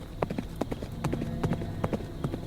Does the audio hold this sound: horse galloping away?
yes